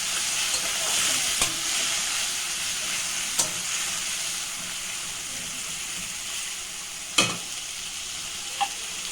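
Tomatoes sauté in a pan for a fish roe fritter curry, giving a steady low sizzle with a few sharp stirring scrapes and clicks, fairly quiet and close, with no talking.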